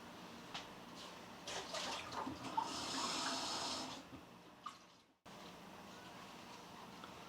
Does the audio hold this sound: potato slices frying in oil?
no